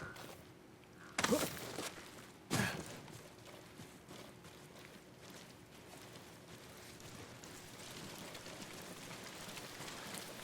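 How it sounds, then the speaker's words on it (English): Steady rain hisses in the video game Ghost of Tsushima, a constant soft wash of noise broken by two sharp louder thumps early on. "And more rain."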